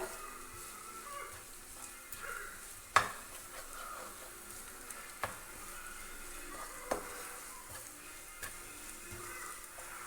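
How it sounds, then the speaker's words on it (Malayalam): Bitter gourd frying in a pan with green chillies, a faint steady sizzle broken by a few sharp clinks and scrapes of the spoon as it is stirred. "പാവയ്ക്കയിലേക്ക് എല്ലായിടത്തേക്കും കിട്ടുന്ന രീതിയിൽ നമുക്കിതൊന്ന് മിക്സ് ചെയ്ത് കൊടുക്കാം"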